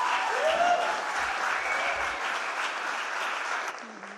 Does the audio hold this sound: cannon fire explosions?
no